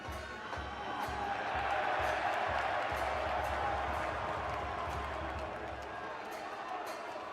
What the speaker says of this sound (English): you heard the big NC State cheer just then